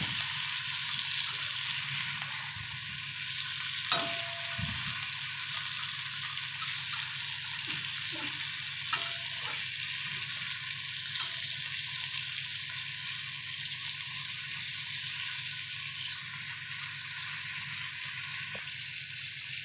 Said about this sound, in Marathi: आणि पलिताने असं मी परतून घेणार आहे